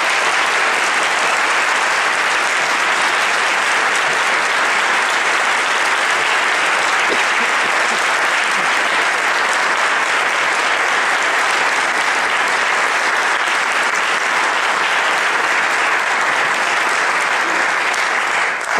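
An audience applauds to welcome speaker Winona LaDuke at a college event, with steady, dense clapping from a large crowd sustained loudly and evenly from start to finish, no voices standing out.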